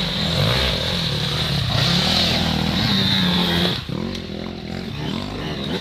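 An enduro motorcycle racing past on a muddy sprint course, its engine revving loud and close with a rising then falling whine and a sharp throttle change near the end, with no talk.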